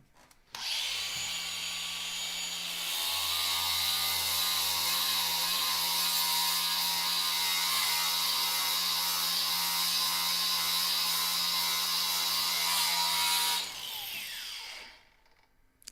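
A Tyrolit Strip-It cleaning disc on an angle grinder turned down to about 4,000–5,000 rpm strips surface rust, giving a steady, loud, high-pitched whirring grind with a constant drone that holds for roughly thirteen seconds before spinning down.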